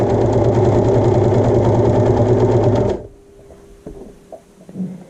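An overlock sewing machine stitches a fabric swatch with colorful trim, running loud and steady for about three seconds before stopping abruptly, followed by faint handling noises.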